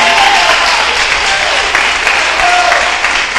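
A church congregation at a morning service claps loudly and continuously, a dense wash of hands lasting throughout with a faint murmur of voices underneath.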